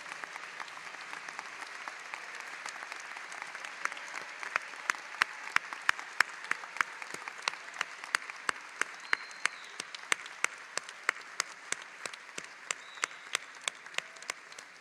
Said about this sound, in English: show our appreciation with a big round of applause